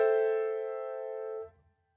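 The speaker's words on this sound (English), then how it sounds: "Minor seventh chords sound like this." A minor seventh chord sounds once as a sustained harmonic tone, steady and clear for about a second and a half before cutting off, with no voices.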